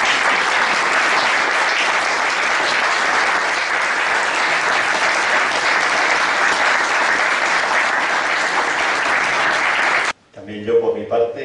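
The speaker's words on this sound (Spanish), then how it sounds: "pido un aplauso" Sustained applause from a church gathering at a provincial chapter, thick and continuous for about ten seconds, then cutting off abruptly as a voice begins speaking.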